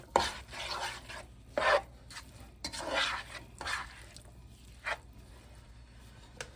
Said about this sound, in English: Just mix it in.